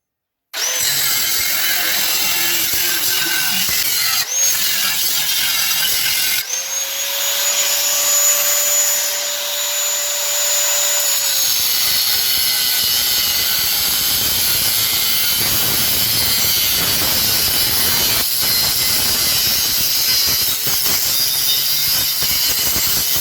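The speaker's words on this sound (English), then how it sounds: "Using my Makita grinder with a 4-inch metal cutting blade." A Makita angle grinder fitted with a 4-inch metal cutting blade slices through metal, a loud steady high whine that runs continuously for the whole stretch, with one brief pitch-dropping pass partway through.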